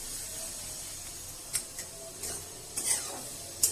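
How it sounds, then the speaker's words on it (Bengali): Green peas, spinach and other greens fry in a pan under a quiet sizzle, with a few sharp scraping stir strokes of a spatula near the end and no talk. "কড়াইশুটি পালং শাক কলাই শাক সব একসাথে আমি এইভাবে ভেজে দিলাম"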